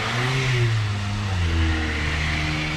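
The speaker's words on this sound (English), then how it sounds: "there's a car going" A car drives past on a snowy night, its engine note rising and then falling as it goes by close and clear, with no talk over it.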